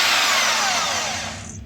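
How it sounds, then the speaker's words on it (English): A corded household electric drill with an extension spins in a brief, loud whirring burst, its pitch sliding down as it winds down over under two seconds. "So I'm going to be using a house drill with a harbour extension."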